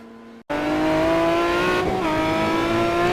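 An Aston Martin GT1 race car at Silverstone heard on board, its engine screaming loudly at high revs after a brief dropout, pitch rising and dipping with gear changes.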